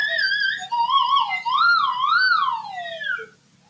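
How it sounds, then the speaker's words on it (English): Slide whistle played alone, its pitch gliding up and down in wavering sweeps for a few seconds before dropping away, with a soft low hum underneath. "It's a slide whistle."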